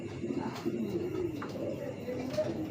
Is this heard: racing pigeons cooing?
yes